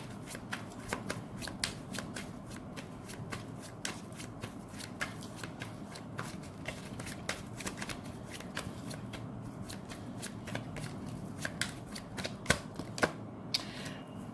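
A deck of tarot cards is shuffled close by, with quick riffling flutters and sharp snapping taps repeating in an even run for the whole stretch, faint and without talk.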